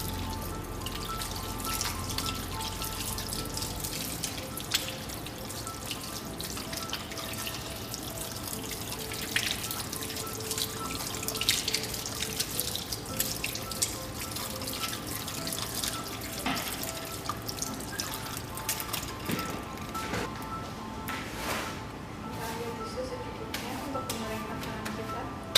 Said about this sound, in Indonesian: Kemudian kita bilas.